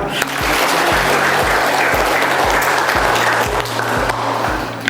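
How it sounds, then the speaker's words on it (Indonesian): Audience applause at a public talk, a steady dense wash of clapping across the whole stretch with a low hum underneath, fairly loud and close. "Tepuk tangan."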